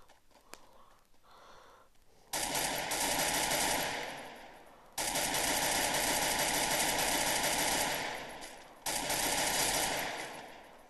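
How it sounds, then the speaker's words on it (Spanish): Long bursts of rapid automatic gunfire from the video game Free Fire, loud and close, separated by brief pauses, with a few isolated shots before the first burst. "de luego los disparos suenan que te puede dar algo"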